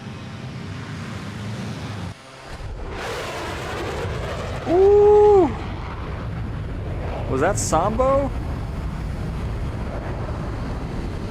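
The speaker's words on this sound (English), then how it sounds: "They did so good with that XB1. That thing sounds awesome." A Boom XB-1 aircraft in Microsoft Flight Simulator 2024 gives a steady, loud broadband roar that swells around the third second and keeps rushing throughout, while people talk over it in two short bursts.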